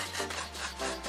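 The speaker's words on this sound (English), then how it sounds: "I'll use a wooden skewer to etch a message on the paint. The skewer will scrape it off." A wooden skewer scrapes paint off cardboard in steady, close back-and-forth strokes, giving a dry rasping rub with no voices.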